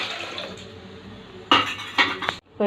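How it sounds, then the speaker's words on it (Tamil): Water is poured into a cooking pot while greens are being prepared, starting after a quiet stretch: sharp splashing and metallic pot clatter in a few loud bursts. "தண்ணி ஊற்றிக்கிட்டு"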